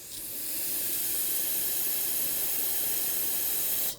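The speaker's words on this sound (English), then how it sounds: "I'm going to just take some parts cleaner, and I'm going to clean the area" Parts cleaner sprayed from an aerosol can onto a Toyota Camry steering rack area during a rack and pinion replacement: one steady, loud, close hiss lasting about four seconds, with no talk.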